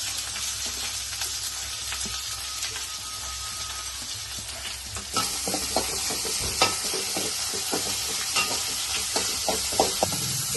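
Chopped onions sizzling steadily in hot oil in a pan while being stirred, with continuous frying hiss and scattered scraping knocks of the spoon growing more frequent in the second half; no talking.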